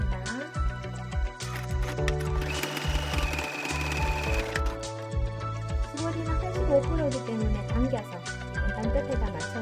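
Sewing machine stitching stretchy jersey fabric for a dog T-shirt, a close, busy mechanical whir with rapid needle ticks that speeds up and slows down in short runs, with a voice faintly mixed in.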